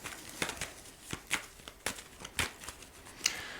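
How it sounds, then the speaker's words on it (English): Tarot cards are shuffled by hand in a quick series of soft, crisp riffling bursts, close and fairly quiet, with no talking. "I'm going to just give this a quick shuffle."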